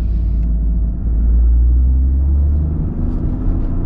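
Toyota GR Corolla's three-cylinder engine on a race circuit, a loud, deep droning rumble that holds steady and swells slightly as revs rise, heard close from inside the car with no talking.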